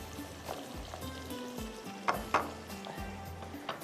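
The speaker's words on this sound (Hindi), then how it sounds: "ये देखिए, इसको मैं थोड़ा सा प्याज को ब्राउन कर रही हूँ" Onions browning in a hot pan for an oven chicken rice dish, a steady soft sizzle with occasional scrapes and clinks of a spoon stirring against the pan, fairly quiet and without voices.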